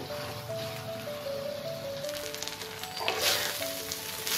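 Rice stirred and fried in oil in a pan for a paneer pulao gives a soft, close sizzle with gentle scraping, partly under a background music tune.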